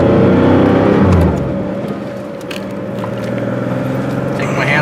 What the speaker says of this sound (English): Just love the sound of these 911s.